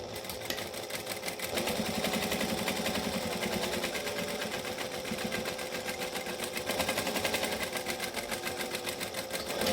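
Sewing machine running steadily as it stitches and backstitches fabric, a continuous close whirring rhythm with no talk.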